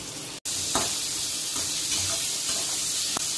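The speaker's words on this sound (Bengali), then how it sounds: "তো পেঁপেটা একটু নাড়াচাড়া করে নেবো, কোনো কিছু লাল করব না।" Thin-sliced papaya sizzles steadily in a hot pan, a continuous close frying hiss broken by soft scrapes and clicks of stirring, with a brief dropout early on and no voices.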